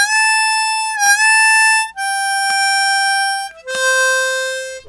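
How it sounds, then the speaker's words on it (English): Harmonica phrase from a song with bends on the draw six, sliding pitch into a held note, then resolving down to blow six and lower; three long sustained reedy tones, close and loud, solo. "So that part with the bend sounds like this."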